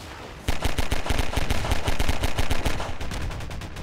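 An airboat-mounted gun in a video game fires a rapid, continuous burst of loud, evenly spaced shots after a brief quiet start, with no voices over it.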